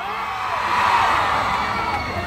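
Crowd at a campaign rally (miting de avance) cheering, whooping and shouting together in one sustained, loud roar with no pauses.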